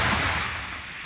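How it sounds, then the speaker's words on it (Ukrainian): Tank cannon fire during crew training drills, a loud sustained roar and rumble of gunfire that fades slowly across the short moment, with no voices. "Танкісти відпрацьовують вміння вести вогонь як із прихованих позицій, капонірів, так і з відкритої місцевості на відстань пострілу до 12 кілометрів"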